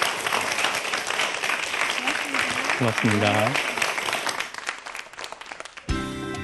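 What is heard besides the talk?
audience applause after lecture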